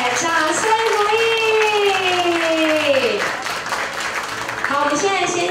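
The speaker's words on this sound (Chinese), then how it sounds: "掌声鼓励。" An audience at a ceremony for chefs, marking Taiwanese food month, claps through the whole stretch while a voice rises, glides and carries on over the applause.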